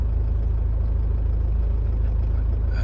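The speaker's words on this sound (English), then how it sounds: "we've currently been idling for 8-9 minutes since the last reset" A Toyota engine from the 2000–2009 era idles steadily after an idle reset, a low, even rumble close by with no voices.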